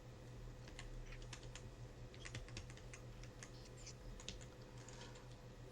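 Keystrokes clatter on a computer keyboard in quick, uneven bursts over a steady low hum, close and fairly quiet, with no talking.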